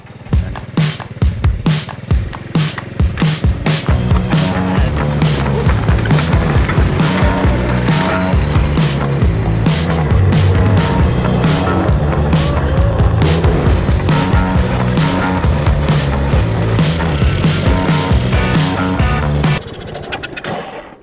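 A 4x4 fitted with bamboo suspension, its loose motor jumping, drives on its maiden run: a loud, continuous engine roar with rattling and clattering that stays steady for about twenty seconds before cutting off.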